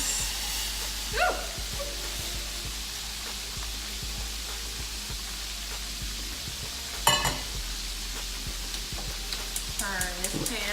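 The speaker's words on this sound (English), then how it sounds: "So you see how our glaze is boiling and thickening" A Hennessy glaze for hot wings boiling in a pan gives a faint, steady sizzle and bubbling hiss, with a few clinks, a dog barking briefly and a short stretch of speech.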